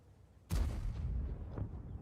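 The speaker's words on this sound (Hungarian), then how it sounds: "megtörtént az első lövés" A single loud, booming gunshot rings out in a competitive video game match, hitting suddenly after a quiet moment and trailing off in a rumbling tail.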